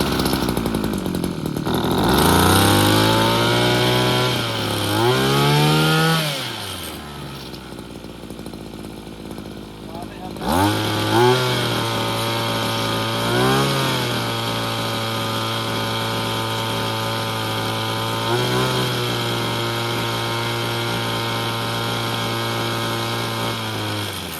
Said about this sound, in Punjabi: ਪੰਪ ਦੀ ਸਟਾਰਟਿੰਗ ਕਰਦੇ ਆਂ